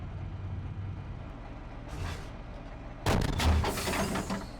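A tank cannon fires in the Steel Beasts Pro PE tank simulator game. A muffled boom lands first, then a louder, sharper blast with a rumbling tail over a constant low engine drone.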